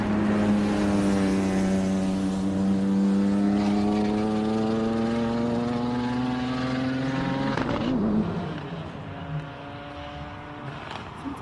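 Noble M400 hill climb car with a 3-litre six-cylinder Ford engine, a loud sustained engine note climbing gradually in pitch before cutting off and fading into quieter rumble near the end.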